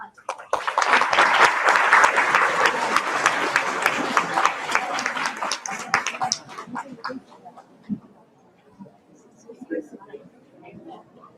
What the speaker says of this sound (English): Now give a big hand for the person behind this whole event, Indranti.